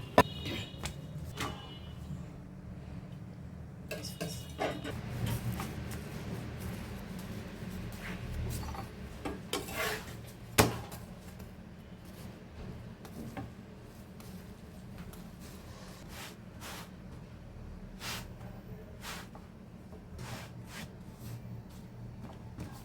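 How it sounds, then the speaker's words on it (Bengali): A knife chops cooked shawarma meat finely on a board, giving irregular, close, crisp taps and scrapes at a steady working pace, with no talking. "এখন শর্মার মাংসগুলো আমি কুচি কুচি করতেছি"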